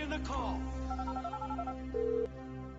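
A phone call is placed in the GTA V video game: a run of short stepped dialing tones, then a steady ring tone near the end, with someone talking over it.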